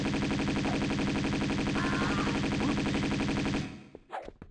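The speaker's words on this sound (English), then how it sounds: "She was still shooting the corpse." Sustained rapid gunfire from Tomb Raider 2 as Lara keeps shooting at a corpse, a dense, loud, steady stream of repeated shots that stops suddenly near the end and gives way to a few scattered quieter sounds.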